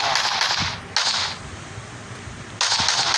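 Gunfire from a homemade zombie shooter video game: two loud bursts of rapid shots, the first about a second long, then a pause and a second burst near the end, with no talk over them.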